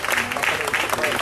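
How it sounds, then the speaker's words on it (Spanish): A church congregation claps at an anniversary service, a brief burst of dense applause mixed with voices in a large room. "Denle un aplauso."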